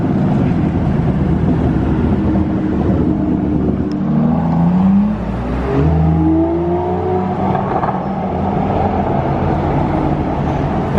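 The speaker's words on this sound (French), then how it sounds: "Là on a une belle DBS qui descend" An Aston Martin DBS with a V12 drives downhill through Monaco, its engine note rising and falling as it passes close by, with a steady background of traffic and street noise.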